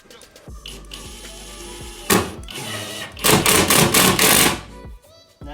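Number 6 screws 3/4 inch long are driven into plywood with a power driver while building a DIY bookcase, giving a brief whir, then a longer run of loud, rattling bursts that stop abruptly, close by with no talking.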